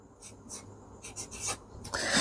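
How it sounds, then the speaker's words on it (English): A pen or pencil writes out a maths problem on paper in short scratchy strokes close by, several quick bursts and a longer, louder stroke at the end, with no talking. "then let us write it down"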